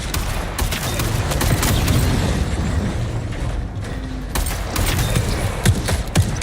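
Rapid video-game gunfire bursts, loud and close, with sharp repeated shots and mechanical clicks over a busy background of game noise.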